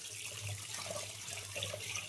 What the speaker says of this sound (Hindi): इसको हम सब बहा देते हैं पानी से